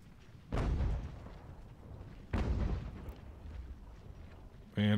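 Artillery cannons booming on the battlefield in the strategy game Ultimate General: American Revolution, two heavy deep blasts with rumbling decay, followed by the onset of a third boom at the very end.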